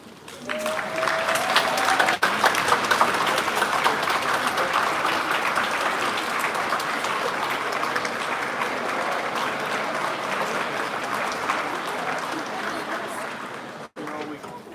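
Audience applause fills a pharmacy white coat ceremony for the Doctor of Pharmacy class, steady and sustained for well over ten seconds after a brief voice at the start, then cutting off sharply near the end.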